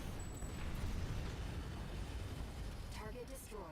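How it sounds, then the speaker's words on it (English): Rumbling explosion bursts from the mech combat game Armored Core 6, a dense low roar filling a few seconds, with crackling debris and brief game tones near the end. "Yay for explosions."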